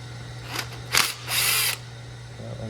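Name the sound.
tool removing ground strap bolts on Toyota 2.4L engine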